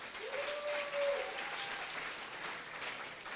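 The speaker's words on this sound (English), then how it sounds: "And so I ask that you give a very warm round of applause to our terrific youth directors, Tioni and Alyssa Shear." Audience applause fills a dinner hall at an anniversary dinner, a steady wash of clapping from many hands that holds for several seconds at moderate distance, with a faint tonal sound near the start.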